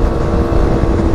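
A carbureted Daytona ADV adventure scooter engine drones steadily under acceleration, a loud, close, continuous buzzing roar with a gritty low end and no voices over it.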